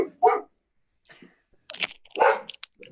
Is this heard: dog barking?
yes